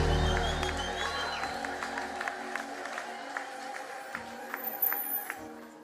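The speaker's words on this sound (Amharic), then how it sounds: "እልልታ ጭብጨባ ለጌታ" Worshippers at an Ethiopian church service clap and cheer, with scattered sharp claps and crowd noise over sustained music, steady and moderately loud throughout.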